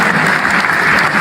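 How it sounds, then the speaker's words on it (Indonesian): Children clapping their hands together in a group, a steady dense patter of applause close by with no talking, lasting just over a second. "tepuk tangan anak-anak"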